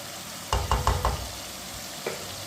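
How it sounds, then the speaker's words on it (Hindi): Tomatoes and green chilies cooking in a pan over medium heat, giving a low steady sizzle with a short run of four stirring knocks near the start and one softer knock later. "मीडियम आंच पर टमाटर को पकाएंगे"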